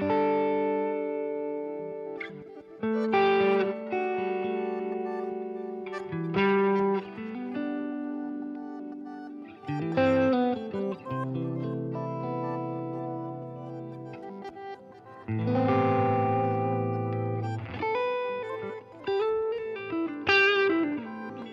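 An electric guitar played through an HX Stomp Chase Bliss preset with the expression pedal down rings out in sustained chords and notes, heavily effected with modulation, echo and a wavering pitch character, alone without talk.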